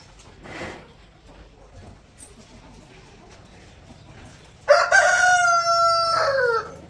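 A rooster crows once, loud and close, a long strained call after several seconds of faint background noise and a brief muffled sound.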